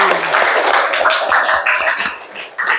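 A classroom of students claps for a classmate during a guidance lesson, a short burst of loose, uneven clapping with a few voices mixed in.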